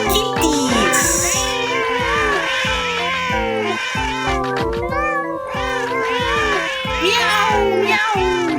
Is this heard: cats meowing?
yes